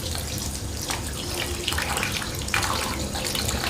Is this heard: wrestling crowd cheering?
no